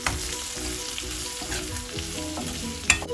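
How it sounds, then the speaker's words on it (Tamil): Sambar powder sizzles and fries in a hot pan while a utensil stirs and scrapes it around, close and steady, with a sharp clink near the end. "எவ்வளோ சாம்பார் பவுடர் வேணும்னு போட்டு இதை கொஞ்சம் கிளறி"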